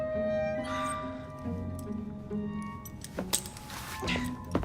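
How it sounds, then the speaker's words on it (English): Keys jangle as they are handed over in the video game Assassin's Creed Syndicate, a few light metallic clinks rising over quiet game ambience, with a louder rattle near the end. "Now hand over your keys."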